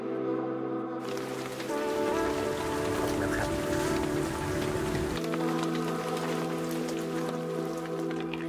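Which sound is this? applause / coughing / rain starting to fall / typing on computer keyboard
rain starting to fall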